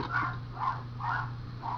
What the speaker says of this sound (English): You can hear my dogs going crazy.